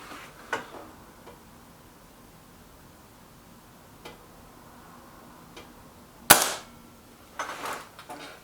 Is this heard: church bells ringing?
no